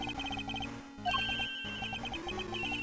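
A phone ringtone chirps in the Ace Attorney Investigations 2 video game, with rapid repeating electronic trills over background music and a brief pause midway before the ringing continues.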